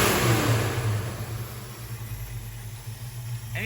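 A 1968 Dodge Dart sedan engine is revved while its idle screws are adjusted, a close, rough mid-pitched engine roar that swells at the start and settles back toward a steady idle, with no talk.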